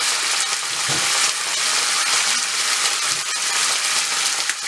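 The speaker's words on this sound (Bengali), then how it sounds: "এখন এই মশলাটাকে একটু ভুনবো।" Onion and garlic paste frying in hot oil for a yogurt potato curry gives a steady, loud, close sizzle with a few faint stirring scrapes, and no voices.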